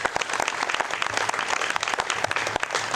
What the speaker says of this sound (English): Let's give them a nice big round of applause, please.